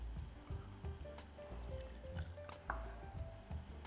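Lemon juice being poured for a hop-infused Enzoni cocktail, a short run of wet drips and a soft trickle over a low background hum, fairly close and quiet.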